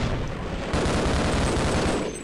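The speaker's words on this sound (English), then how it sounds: "Grenade." Grenade blast and bursts of gunfire in the Half-Life video game, a dense, loud barrage of overlapping shots and booms running steadily throughout with no pause.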